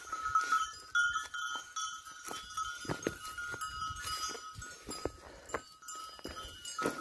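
A village flock of goats and sheep moving uphill in fog, with bells clinking and clanking irregularly, occasional bleats, and shuffling sounds at moderate distance.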